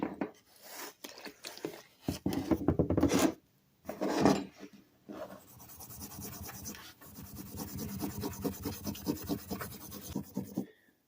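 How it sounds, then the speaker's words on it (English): Steel wool soaked in mineral spirits rubbed over the worn surface of a 1950s Sunbeam hedge trimmer, close-up scratchy rasping strokes in irregular bursts with brief pauses, no talking. "just use some mineral spirits and some 4/0 steel wool, clean it up a little bit"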